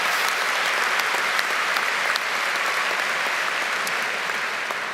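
Applause at the 2025 Mt. Juliet High School graduation commencement, a large crowd clapping steadily and loudly throughout.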